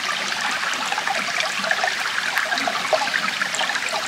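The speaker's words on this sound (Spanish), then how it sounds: "El ruido del agua contra las piedras." Water in a small stream runs and splashes over stones on a wooded hiking trail near Tandil, Buenos Aires, giving a steady, close, full rushing wash with no voices.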